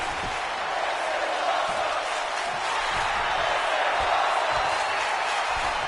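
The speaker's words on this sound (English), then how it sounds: "the crowd is really getting into it here" A video game crowd at a WWE 2K19 cage match cheers steadily, a loud continuous roar with occasional thuds from the ring beneath it.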